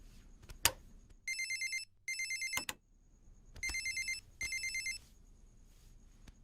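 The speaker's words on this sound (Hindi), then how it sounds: "मेरी वाइफ का फोन।" A phone rings in four repeated electronic bursts, fairly close, with a couple of sharp knocks or clatters in between and no talking.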